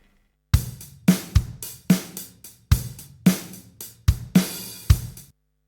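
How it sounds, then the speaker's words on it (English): A GarageBand drummer loop plays a dry, punchy groove of kick and snare hits in a steady repeating rhythm, heard alone with a short decay after each hit. "I've got a GarageBand drummer rhythm, just a drum rhythm that you just call up"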